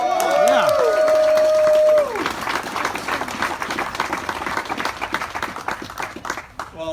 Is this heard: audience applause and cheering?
yes